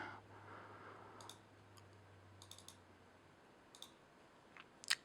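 A computer mouse clicks during a Word signature task, faint, sparse, close clicks arriving singly and in quick pairs against a quiet room hum, with one sharper click at the end.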